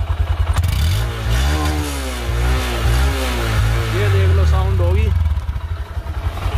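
A Honda Shine SP 125 motorcycle engine is revved up and down several times close by, its pitch rising and falling in repeated surges, while someone talks over it throughout.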